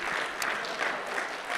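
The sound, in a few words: audience applause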